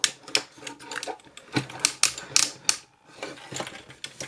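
A Hello Carbot Sky SWAT plastic toy robot is transformed by hand, its arms folding down with a quick run of close, crisp clicks and ratcheting snaps at an uneven rhythm.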